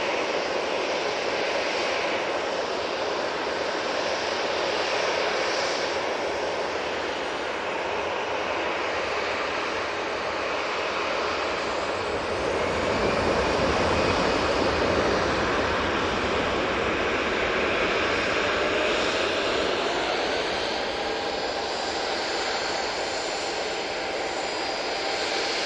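An EasyJet airliner departs Manchester Airport bound for Palma, its engines giving a sustained, broad roar that builds slightly toward the middle and holds steady throughout, with no voices.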